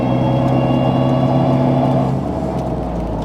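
An all-wheel-drive Honda Civic Type R FK8 on the move with a suspected sticking-throttle fault, its engine a loud steady drone from inside the cabin that eases slightly toward the end.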